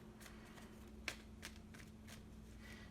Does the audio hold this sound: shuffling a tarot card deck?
yes